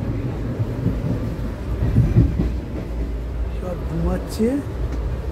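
Steady low rumble and rattling of a moving train carriage, with a person speaking briefly over the noise.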